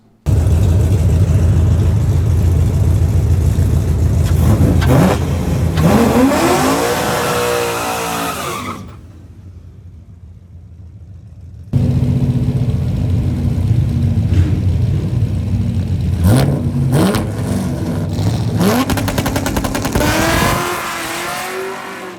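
A stick-shift drag car with a 180-degree header launches hard, its engine roaring loud and close, breaking up into a brief lull before a second screaming pull with rising revs and tire noise; no talk.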